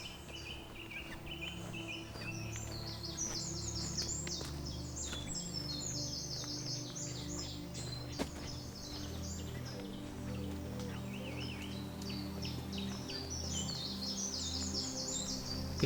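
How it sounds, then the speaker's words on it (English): Birds sing outside the ancient St. Peter's Church, with a dense, continuous chorus of high chirps and trills layered over a low steady background rumble, with no voices. "If you didn't believe my opening comments about birdsong, then perhaps now you do."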